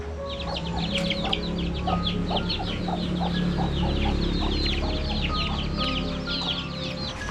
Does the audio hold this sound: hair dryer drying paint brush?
no